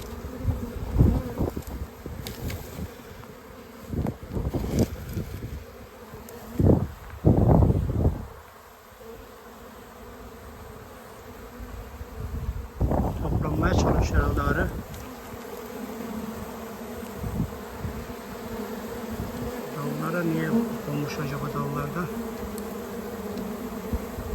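Dense buzzing of a honeybee swarm around a hive drones on and on, swelling loudly at moments as bees pass close, with handling noises now and then.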